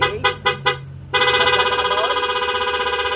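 A loud Honda ADV160 motorcycle dual horn gives three short beeps, then blares continuously with a rapid pulsing warble, close and piercing.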